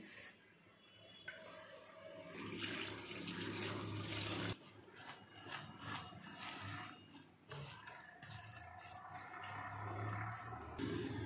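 Water poured into a cooking pot with mustard oil, bursts of splashing and running water that start and stop several times, close by and fairly quiet.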